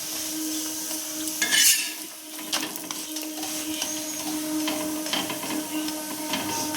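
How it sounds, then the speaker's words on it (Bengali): Pea-stuffed parathas (koraishutir porota) fry in a pan with a steady, broad sizzle and a few soft scraping touches, close by and with no voices. "পরোটাগুলো ভেজে নিচ্ছি"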